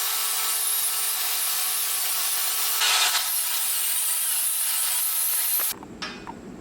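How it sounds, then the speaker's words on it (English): Hand sanding of cured Bondo body filler on a Prinsu roof rack for a 3rd gen 4Runner, a steady close abrasive rubbing that swells around the middle and then drops to a quieter scrape near the end. "got all that Bondo sanded down"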